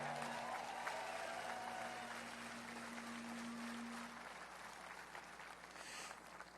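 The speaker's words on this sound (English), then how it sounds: "Please give yourself a big round of applause." A political rally crowd at a Pennsylvania outdoor site applauds in a faint, distant, steady roar of clapping, with a few sustained tones hanging beneath it.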